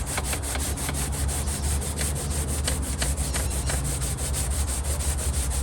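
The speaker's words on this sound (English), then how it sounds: "you can hear the mylar flexing" Mylar diaphragm of a Magnepan MGI panel speaker flexing and crackling as old glue is scraped off, a steady close-up rasping scrape with rapid rhythmic strokes running throughout and no voice.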